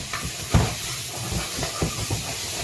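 Vegetables stir-fry in a wok, a loud, continuous sizzling hiss with soft, irregular knocks and bumps from stirring.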